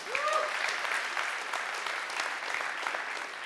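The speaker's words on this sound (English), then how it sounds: "Another round of applause for Joe Pine." Conference audience gives another round of applause, an even, moderately loud spread of many hands clapping for a few seconds, with a brief faint voice at the start.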